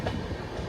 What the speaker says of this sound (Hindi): ट्रेन रुकती भी तो 1-2 मिनट ही है।